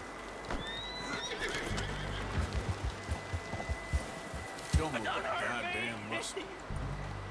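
A horse whinnies and snorts amid clip-clopping hooves and patter of rain in Red Dead Redemption 2, with a person talking excitedly over the scene.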